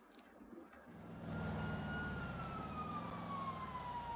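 Police sheriff sirens wail loudly in a video game, rising in after a quiet start and holding a steady, sweeping tone over rumbling vehicle engine noise, with no talking.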